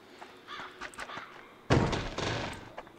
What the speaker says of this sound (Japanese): いきなり扉の開く音聞こえたんで右側行ってみますか。